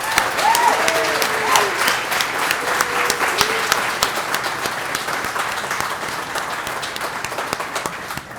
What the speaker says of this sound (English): let's give them all a round of applause now